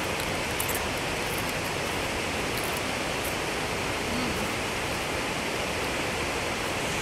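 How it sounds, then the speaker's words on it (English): Chush Falls on a hiking trail: a steady, dense wash of falling water roars evenly throughout, constant and unbroken with no voices over it. "And the waterfall is back there."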